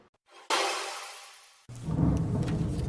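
Thunder and rain outside a recording studio: a sudden loud crack decays over about a second, then a deep rolling rumble follows with rain hiss beneath, heard muffled from indoors.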